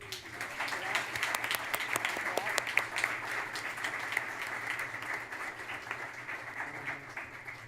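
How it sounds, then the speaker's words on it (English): Round of applause for PXU schools at a school governing board meeting, moderately loud and sustained throughout, with a low steady hum and some murmured voices beneath the clapping. "Let's give those PXU schools a round of applause."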